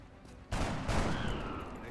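Gunfire from the XCOM Long War video game: a sudden loud burst of shots crashes in halfway through after quiet game ambience, followed by a sustained noisy tail and a faint high tone.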